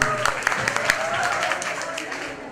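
An audience at a school festival claps in a short burst of applause, moderately loud and fading over a couple of seconds.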